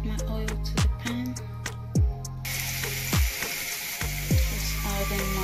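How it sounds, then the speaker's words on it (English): Oil sizzling in a frying pan in a home kitchen where garlic, frozen beans and mushroom are being cooked, a steady hiss that brightens partway through, broken by a few dull knocks and clatters of utensils. "I'm going to add my oil to the pan."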